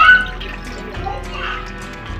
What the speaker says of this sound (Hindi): बर्तन ये चमक रहा है, इसके अंदर पानी डालते हैं।